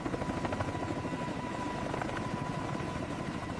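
Sikorsky CH-53K King Stallion heavy-lift helicopter heard up close, its dense rotor thump and steady turbine roar running loud and unbroken, with no voices over it.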